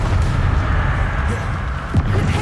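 Spell explosions in Hogwarts Legacy, heard as dense continuous rumbling booms with no clear separate blasts, loud and sustained throughout.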